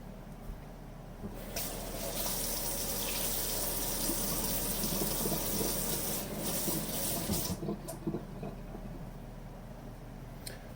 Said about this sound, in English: I'm going to rinse this off real quick